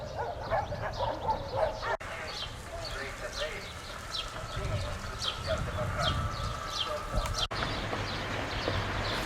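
Dogs barking outdoors along the Danube near the canal to Constanta, several sharp barks scattered across the clip at moderate distance, with a voice talking over them and some clip-clop of hooves mixed in.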